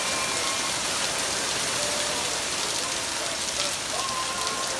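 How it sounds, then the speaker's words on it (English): Steady rain pours down during a Southern California storm, a dense, even hiss of drops on surfaces that continues unbroken and fairly loud with no talking. "That's the rain."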